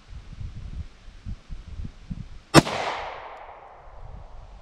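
Single sharp shot from a Ruger 57 pistol firing 5.7x28mm rounds outdoors, a loud crack with a ringing decay, preceded by soft rustling and handling noises.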